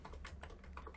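Computer keyboard keys are pressed in quick succession, including the Enter key, as light close clicks typed rapidly over a faint background hum.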